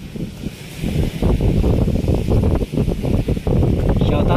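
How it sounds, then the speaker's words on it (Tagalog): Strong wind blowing across a washed-out dolomite beach in Manila, buffeting the microphone in loud, gusty bursts throughout. "Lakas ng hangin."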